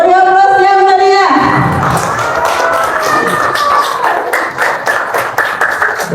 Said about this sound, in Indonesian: Bapak Agus, beri aplaus yang meriah